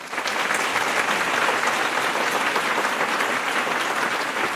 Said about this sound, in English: I don't know about this new applause you got going